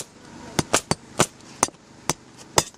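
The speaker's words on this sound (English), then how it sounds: "I'm going to show you how to nail on the roof, the safety harness bracket" Hammer blows driving nails through a roof safety harness bracket into a rafter, about eight sharp close knocks in an uneven rhythm, loud against a quiet outdoor background.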